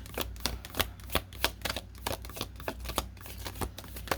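Tarot cards being shuffled by hand, a steady run of crisp riffling snaps and soft slaps repeating every half second or so, close and moderately loud with no talking.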